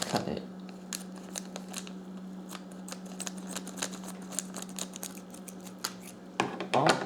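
Scissors snip through a heavy plastic bag filled with goo from a Captivz Jurassic World mystery egg, making a run of small crinkly cuts over a steady low hum, ending in a louder rustle.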